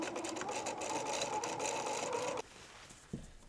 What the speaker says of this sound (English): So I will sew a 1/4 inch seam at the side of that for the start